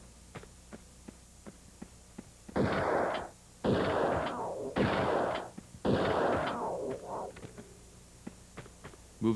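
Gunfire in the Tomb Raider II video game: four loud, dense bursts of about a second each, fired in quick succession over a low hum with faint ticking between them.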